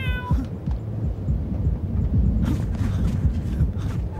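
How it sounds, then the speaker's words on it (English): A brief, plaintive cat meow in a video game sounds at the very start, followed by a steady low rumble and muffled thumping. "Oh, that kitty sounds so sad."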